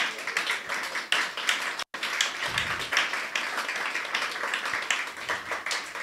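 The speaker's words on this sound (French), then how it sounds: "On peut applaudir à la gloire de Dieu." A church congregation clapping during worship: fairly quiet, fast rhythmic hand claps from a group, continuing steadily with a brief dropout near the middle.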